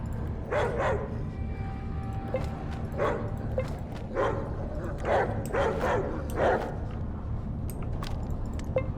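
Barking and yipping from dogs in a fight in the video game ATOM RPG, several sharp bursts spaced irregularly over a steady background hum, fairly loud and with no talk.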